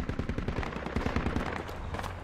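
Rapid automatic gunfire in Project Reality, loud close bursts of shots in quick succession filling the whole stretch, with no talk over it.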